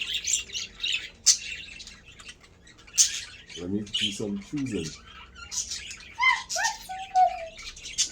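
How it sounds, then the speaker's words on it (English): Birds chirp and tweet around a speaking voice, with a low cooing call midway and a few clear whistled notes near the end. "while we're listening to the birdies chirping away"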